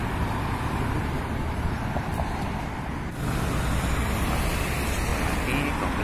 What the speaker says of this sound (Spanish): Este es el río Arlanzón